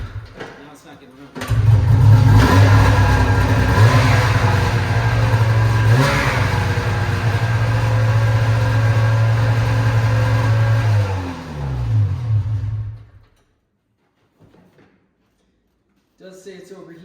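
An old snowmobile engine runs loud and close, rising and falling through revs for about ten seconds before winding down and cutting off into near silence, with a person talking at points.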